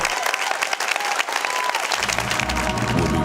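Studio audience of an infomercial breaking into sustained clapping and cheering, a dense, loud wash of applause that swells and fills the space without pause.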